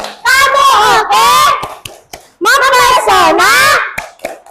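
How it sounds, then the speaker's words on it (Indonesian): Primary school children in a classroom chant loudly in unison while clapping an appreciation cheer in two long bursts, with a few scattered claps at the end. "Tepuk apresiasi"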